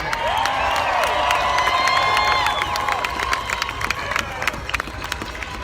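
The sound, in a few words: applause and cheering at a rally for farmers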